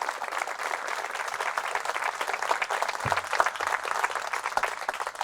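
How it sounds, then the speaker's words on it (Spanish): A church congregation claps in sustained applause during a Catholic Mass, a steady, moderately distant wash of many hands with a few louder claps standing out near the end. "Fuertes aplausos al Rey de Reyes y Señor de Señores."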